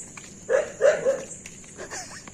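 A dog barks outdoors at night, probably one of a pack. A few short, nearby woofs cluster early, with fainter yips afterward, under low background noise.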